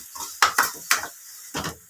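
Mango chutney being stirred in a pan, Andhra style: a few distinct scraping, clacking strokes of a spoon against the pan, close and fairly loud, separated by short quiet gaps, with no talking.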